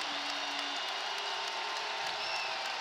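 A basketball arena crowd of more than 20,000 on their feet, roaring and cheering in a dense, continuous wash of noise with scattered clapping, with a commentator's voice faint in the mix.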